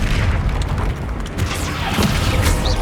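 A heavy booming impact from a Descendo spell in Hogwarts Legacy, a dense low rumble with crashing debris that fills the whole moment without letting up.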